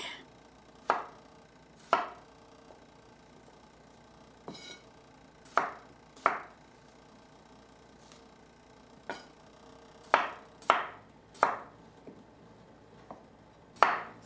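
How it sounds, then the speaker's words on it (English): Small red skin potatoes sliced with a knife on a board, a dozen crisp, separate chops at an uneven pace with quiet pauses between, close and clear. "these are really little potatoes, so I'm just going to do a quick slice on them."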